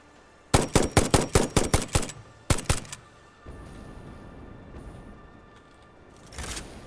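Rifle fire in the game Satisfactory: a rapid burst of about nine loud, close shots, then two more after a short gap, followed by quieter rustling ambience and a final brief swell of noise.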